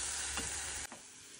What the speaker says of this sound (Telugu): సో ఉల్లిపాయలు కుక్ అవుతున్నాయి కదా